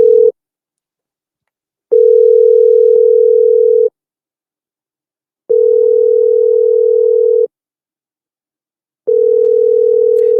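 A telephone rings out while a call-in show host phones a caller back, giving loud, clean ringback tones of about two seconds each separated by short silences, with no talk.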